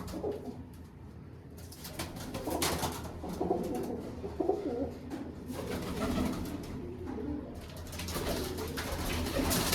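Pigeons coo repeatedly inside a coop, close and fairly loud, with overlapping bursts of throaty calls rising and falling throughout.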